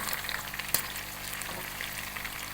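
Chicken pieces for white chicken pulao frying in a pot, a steady close sizzle and crackle throughout with one brief sharp clink of a utensil, no voices.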